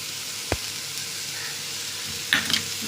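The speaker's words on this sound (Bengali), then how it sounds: "মশলা ভাজা হচ্ছে" Spices fry in a pan with a steady sizzle for katla fish kalia, broken by a sharp knock of a utensil and then a louder crackling burst as yogurt is added.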